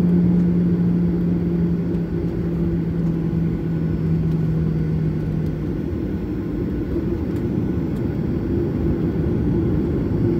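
A Batik Air airliner taxiing onto the runway before a flight from Semarang to Jakarta, heard from inside as a steady, loud engine drone with a low hum that holds the whole time.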